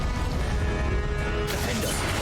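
A Confringo blasting spell from the Hogwarts Legacy wizarding game, a loud dense burst of crackling noise with a sudden brighter blast near the end.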